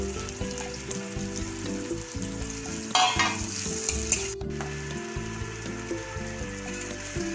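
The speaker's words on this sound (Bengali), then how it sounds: "একটু হালকা করে ভেজে নেব" Two large onions cut into big chunks sizzle steadily in oil left from frying fish, a continuous close frying hiss with clattering stirring bursts partway through.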